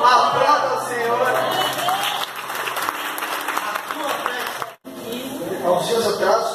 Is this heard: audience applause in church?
yes